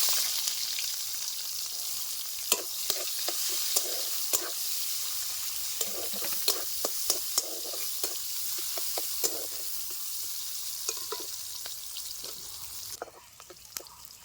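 Bay leaves and whole spices fry in hot oil with chicken pieces for a jackfruit curry, a steady bright sizzle broken by scattered sharp pops and spatters throughout.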